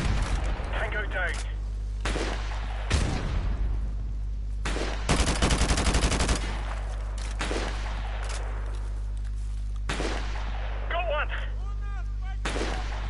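Bursts of AK rifle fire in Call of Duty 4 campaign, loud rapid volleys separated by short pauses, with heavy booming shots and game effects between them.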